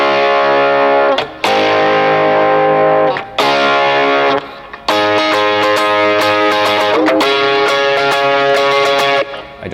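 Distorted, overdriven electric guitar chords through an overdrive pedal with no delay ring out loud and close, with brief gaps between strummed phrases and a gritty, saturated tone.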